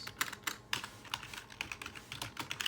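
Quiet, rapid typing on a computer keyboard, a run of light uneven key clicks with short pauses, close and alone.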